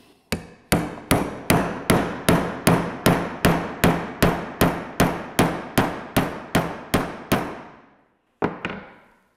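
A hole is made in an aerated concrete block with a run of about twenty evenly spaced, sharp percussive strikes, each ringing and decaying briefly. A short pause follows, then one last hit, all close and loud.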